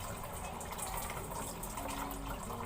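Water gushes and splashes steadily while someone bathes outdoors, a continuous hissing pour with no pauses, fairly close.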